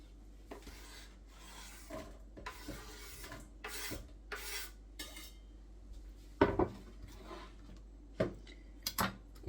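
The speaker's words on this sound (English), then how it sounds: "You're then going to want to transfer this into a pot." Blended sweet potato and rosemary soup being moved into a pot, with scattered scraping, clinking and rubbing of utensils against cookware at close range, irregular and fairly quiet.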